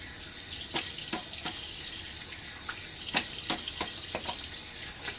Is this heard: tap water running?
yes